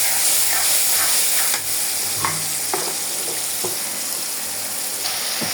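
Garlic paste fries with onions in a pan for pabda fish chorchori, a loud, steady sizzle cut by several clattering stirs of a spoon, no voices.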